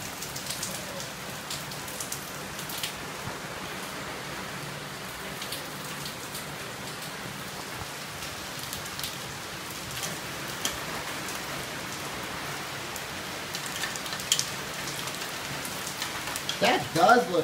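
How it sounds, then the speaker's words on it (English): Heavy rain with light, very tiny hail during a storm in Orlando, Florida, a dense steady hiss of rain on surfaces throughout with scattered sharper patters rising near the end, no speech. "Almost sounds like it's hailing."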